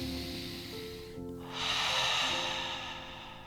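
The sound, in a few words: person taking a deep breath in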